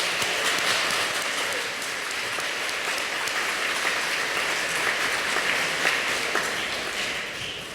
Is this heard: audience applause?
yes